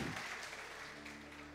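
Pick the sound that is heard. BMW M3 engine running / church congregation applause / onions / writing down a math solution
church congregation applause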